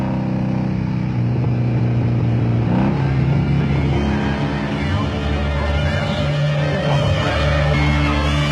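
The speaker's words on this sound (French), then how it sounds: "Là, on arrive sur l'esplanade remplie de motos." Motorcycles fill an esplanade, their engines droning and revving in a loud, continuous wash with a steady low rumble, while people talk over the noise.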